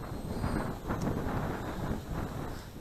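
Wind gusts buffet the microphone outdoors while fishing with ultralight gear on an oxbow of the Pripyat river, a steady low rumble with brief swells and no voices.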